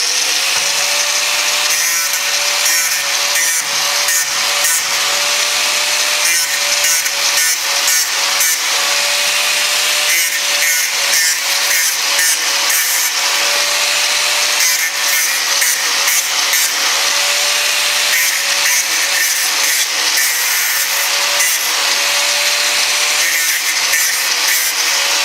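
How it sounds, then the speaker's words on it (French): An electric angle grinder cuts through a wooden spoke of a small pedestal table, a loud, close, continuous whine with rhythmic rasping pulses as the disc bites the wood, sustained throughout. "on va brancher notre disqueuse"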